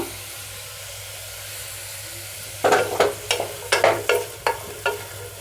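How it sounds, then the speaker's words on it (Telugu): Ginger, onion, beans and green chillies fry in ghee inside a pressure cooker: a low steady sizzle, then a run of distinct scraping stir strokes in an uneven rhythm, close by with no talk. "అల్లం ముక్కలు ఉల్లిపాయ ముక్కలు బీన్స్ పచ్చిమిరపకాయలు వేయించుకుంటున్నాను కుక్కర్లో"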